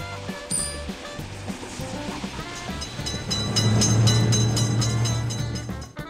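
A train passes through a railroad crossing in a simulator video game, its low rumble swelling into a loud sustained roar midway and then cutting off, with game chimes above.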